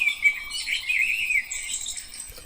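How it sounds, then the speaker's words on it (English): Birdsong from a garden sounds book plays as a continuous stream of bright chirps and tweets, fairly close and steady, with no talking. "More birds."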